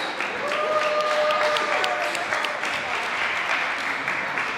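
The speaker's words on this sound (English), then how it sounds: "Let's all give them a big round of applause." An audience claps for a competition team that reached a national championship, a dense, steady round of applause from start to finish before it cuts off abruptly.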